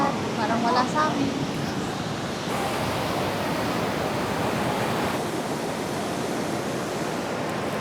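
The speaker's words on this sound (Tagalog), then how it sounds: "Danang Beach." Sea waves on Da Nang Beach in Vietnam, a continuous broad wash of surf rolling in close and loud. A few faint voices come through near the start.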